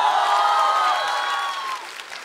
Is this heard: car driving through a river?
no